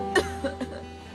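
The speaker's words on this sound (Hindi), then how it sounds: "तुम उससे ऐसे खांस के बात करना। ये देखो ऐसे" A woman gives a few short, deliberate fake coughs, three quick bursts spaced apart, over a low steady background hum.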